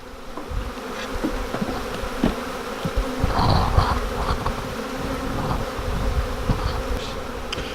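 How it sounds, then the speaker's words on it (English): Many honey bees buzz around a hive, a dense, wavering drone with individual insects passing close now and then. "the buzz of the bees is really awesome"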